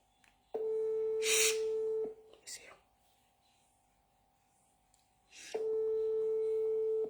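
Phone call ringback tone: two long steady beeps separated by a pause of several seconds, clear and fairly loud, with brief faint murmurs and rustles between them.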